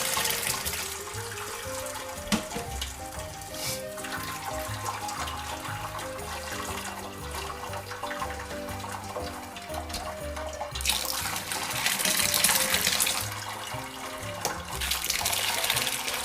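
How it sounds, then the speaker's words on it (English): Hot whey is drained off ricotta curds as a continuous pour of liquid, splashing and trickling nearby and swelling louder toward the end. "So now we're going to drain off the curds from the whey."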